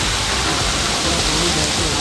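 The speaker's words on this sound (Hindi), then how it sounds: "उसके बीच में ये झरना दिख रहा है।" A waterfall tumbling off the hillsides beside the road to the Statue of Unity in India, a loud, dense, unbroken rushing roar that fills the whole clip.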